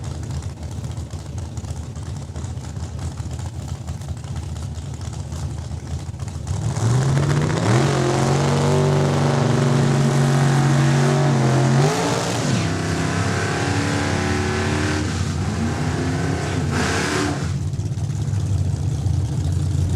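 Drag racing cars at Saskatchewan International Raceway, including a Pontiac, roar down the strip after a quiet start, the loud engine note climbing in pitch as the cars accelerate and then fading as they pass.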